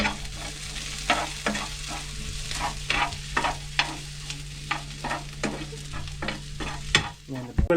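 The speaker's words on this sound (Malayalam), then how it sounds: "മൊത്തത്തിൽ ഇളക്ക്" Garlic frying in a pan, stirred with a utensil: steady sizzle under rhythmic scraping strokes that repeat about every half second, close and fairly loud.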